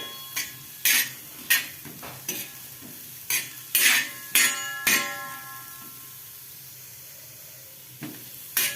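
Baby bitter gourd frying in a pan and being stirred: repeated scraping, clinking strokes of the spoon against the pan at a quick, uneven pace over a steady sizzle, close and loud, then a quieter stretch of sizzling.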